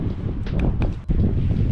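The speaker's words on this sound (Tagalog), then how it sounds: "Wala ngang ulan. Puro hangin naman pala." Wind without rain blows in gusty rumbles against the microphone outdoors, a loud low buffeting that swells and briefly drops before surging back, with faint rustling and no talking.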